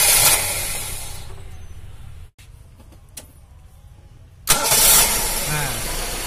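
Car engine cranking and starting on a sedan being fitted with an automatic relay for its extra radiator fan, a loud burst of starter and engine noise, a quieter stretch, then the engine roaring up again close by.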